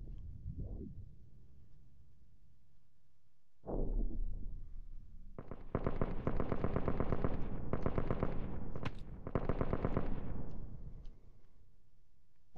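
Call of Duty Advanced Warfare gunfire: a couple of isolated shots, then sustained bursts of rapid automatic fire with brief pauses, loud and close.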